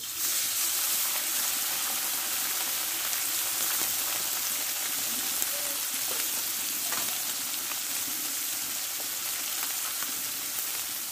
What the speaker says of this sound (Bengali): দেখো মাছগুলো ভালো করে আমি ভেজে নিয়েছি